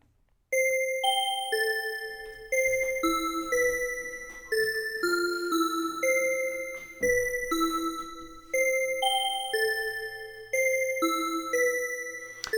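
Synth bell MIDI pattern played in Logic, bright chiming notes in a repeating melodic phrase with an even rhythm, clean and alone with no talk.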